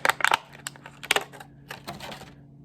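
Plastic packaging of a War for Cybertron Kingdom Core Soundwave Transformers toy being cut open, giving sharp close snips and crinkling crackles in uneven bursts, loudest at the start and again near the middle, fading toward the end.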